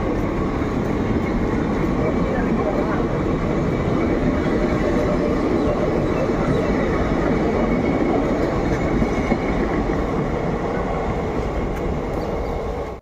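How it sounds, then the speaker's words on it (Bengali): A passenger train bound for Khurda Road pulls out of Balasore station, its wagons rumbling and clattering past close by in a loud, steady roar that holds for the whole stretch, with faint wheel squeal and no talking over it. "এই ট্রেনটা একদম ছেড়ে বেরিয়ে চলে যাচ্ছে"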